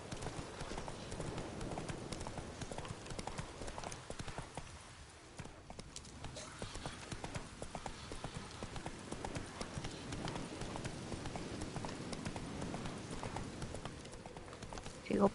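Horse hooves clip-clop in a steady trotting rhythm in The Witcher 3 video game, close and continuous over a dense background of game ambience.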